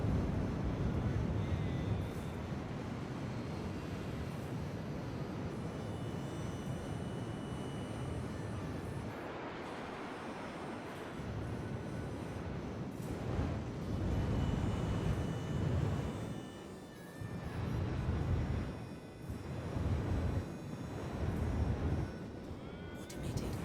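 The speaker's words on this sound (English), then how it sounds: "There we go, another automated landing, which is super helpful." A spaceship makes an automated landing in Star Citizen. A heavy, continuous roar of thrusters and engine rumble fills the scene, surging and easing in waves.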